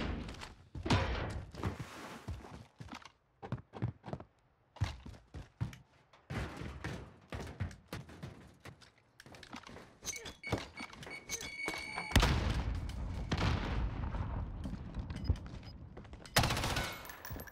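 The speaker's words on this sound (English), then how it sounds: "Let's try this new sniper out." Heavy, booming rifle shots from a new sniper in the Warzone video game ring out singly at irregular intervals, mixed with thuds and some bursts of rapid fire, loud and close.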